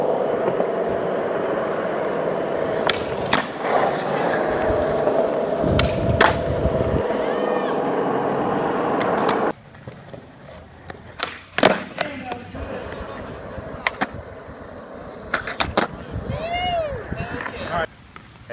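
A skateboard rolls with a steady gritty roar, then comes a stretch of sharp deck clacks and board slaps on pavement, with voices talking in the background.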